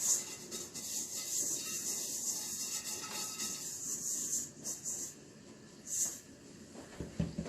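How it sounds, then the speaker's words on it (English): Cinnamon roll dough being rolled out on a generously floured surface: a steady, soft rubbing and scraping that runs continuously at close range, with a few brief knocks near the end and no talking. "And I'm going to roll it out too, so I want lots of flour."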